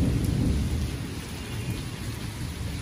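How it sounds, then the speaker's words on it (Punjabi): Heavy rain pours down steadily with rumbling thunder underneath, a dense, loud and continuous downpour close by with no voices. "ਤੇ ਮੀਂਹ ਹੁਣ ਪੂਰੇ ਜ਼ੋਰਾਂ ਨਾਲ ਆਇਆ ਹੋਇਆ।"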